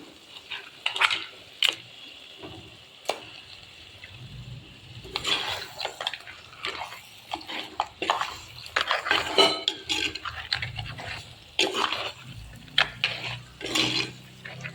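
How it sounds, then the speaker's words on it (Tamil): Crab frying in hot oil in a pan, sizzling, with clattering utensils and stirring scrapes throughout, close by and moderately loud. "நல்லா எண்ணெய் தெளிஞ்சு வந்ததுக்கப்புறம் நம்ம வச்சுருக்க நண்டையும் அப்படியே போட்டுக்கலாம்"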